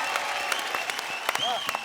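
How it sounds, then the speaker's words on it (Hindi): Studio audience applause on a televised dance competition show, brisk crowd clapping with a few sharper claps and a brief whistle-like tone poking through. "जोरदार तालियां।"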